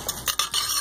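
Spoon stirring butter melting in a pot for mac and cheese, a few quick scraping swishes close up with a faint sizzle underneath.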